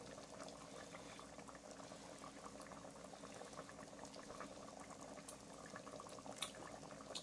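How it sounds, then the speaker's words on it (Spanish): Meat simmering in a pot of water, a steady low bubbling and rolling boil heard close and quiet throughout, with occasional small pops and no talk. "Vamos a ver cómo va esta carnita, miren qué rico. Ya tiene rato hirviendo"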